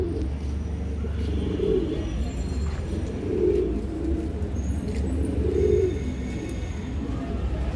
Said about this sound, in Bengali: এই দেখেন পুরনো লাইনের কবুতরগুলো